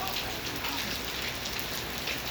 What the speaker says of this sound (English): In the rain. In the rain.